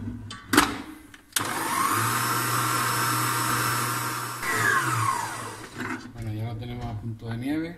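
An electric mixer whirs steadily as it whips egg whites with a pinch of salt to stiff peaks for an orange-soaked sponge cake, a sustained motor drone of several seconds followed by talk.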